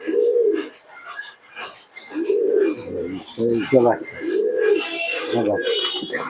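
Domestic pigeons kept by a keeper coo nearby in repeated low, throaty rolling calls, with a person talking in between and over them.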